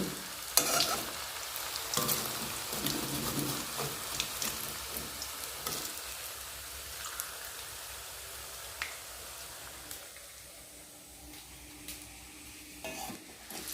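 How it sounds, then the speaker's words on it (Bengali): Paneer pieces frying in oil in a home kitchen, a close, steady sizzle with sharp pops and occasional clinks of utensils, loudest at first and gradually settling quieter. "ভেজে নিই পনিরটা। বসে গেছে, তেলটা গরম হয়নি নাকি?"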